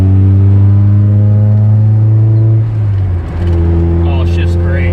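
Honda car with a Euro R engine swap, a loud steady engine drone that dips briefly as a gear change happens, then resumes at a similar pitch; close and dominant, with a faint whistle near the end.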